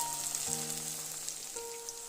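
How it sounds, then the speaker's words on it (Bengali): Snacks fry in a little oil in a pan. A soft, steady sizzling hiss runs throughout, with faint clicks and a low hum in the background. "এইভাবে অল্প তেলে এগুলোকে একটু সময় ধরে ভাজতে হবে"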